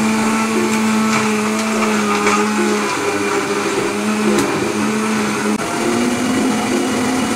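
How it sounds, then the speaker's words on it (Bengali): A mixer grinder whirs loudly and steadily as it blends watermelon, sugar and water into juice. The motor drone runs continuously, shifts slightly in pitch midway, and no one speaks over it. "মিক্সিং জারে নিয়ে নিয়েছি তরমুজ, দিয়ে দিলাম স্বাদ মতো চিনি আর পরিমাণ মতো জল।"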